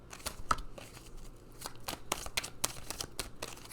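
Oracle cards are shuffled close up in a run of quick riffling flutters and soft slaps, with no talk over them.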